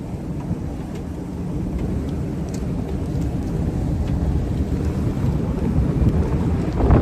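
Derecho thunderstorm in North Dakota: a loud, steady roar of wind buffeting the microphone with heavy rain, building slightly toward the end, no voices.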